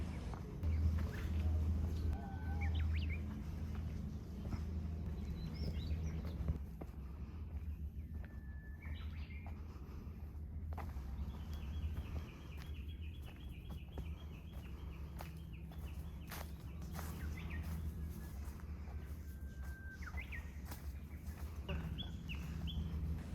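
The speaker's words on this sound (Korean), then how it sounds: "출발부터 새소리가 너무 좋은데요." Birds sing and chirp in scattered bursts along a coastal cliff trail, some calls near and others more distant, over a low rumble of wind and outdoor background noise.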